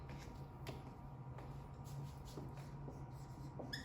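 A pen writing a conclusion statement on paper beside a rectangle word problem, faint close scratching strokes with small taps, quiet and continuous for a few seconds.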